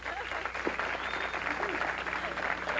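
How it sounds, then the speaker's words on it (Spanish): Audience applause at a salsa concert in 1975, a steady, fairly distant wash of clapping that continues without a break. "vamos a dar un aplauso porque eso merece un aplauso"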